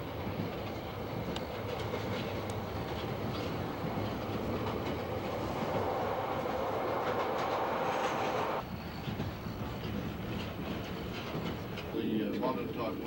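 A train rumbles steadily along the rails between Dunedin and Pukerangi, New Zealand, with a continuous rolling clatter, heard from inside, with faint squeals and creaks near the end.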